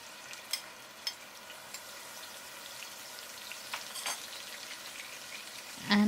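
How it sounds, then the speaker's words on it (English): A paste of two red onions with ginger and garlic fries in hot oil in a pot, giving a steady close sizzle with scattered crackles and pops, no voices. "I'm going to add the paste of 2 red onions and a bit of ginger and garlic into the hot oil"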